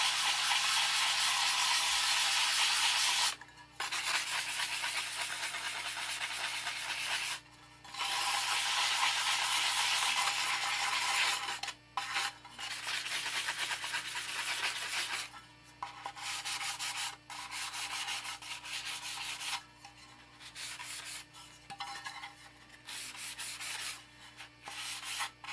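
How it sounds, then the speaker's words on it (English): An AR-15 magazine is hand-sanded in circles with fast-cutting sandpaper, producing a loud, steady abrasive rubbing that stops briefly a few times before resuming. "you're just going to sand this down lightly so the DuraCoat can apply to it properly"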